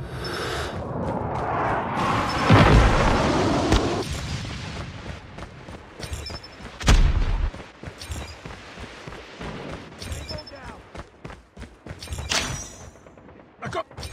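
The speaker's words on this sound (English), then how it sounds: "Friendly napalm deployed." Napalm strike explosions in Call of Duty Mobile: a series of heavy booms and rumbling bursts, loud and close, with a big blast early and another midway, amid gunfire and game sounds.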